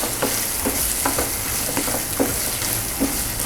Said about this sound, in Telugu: కరివేపాకు వేసిన తర్వాత ఒక్కసారి కలబెట్టుకుందాం.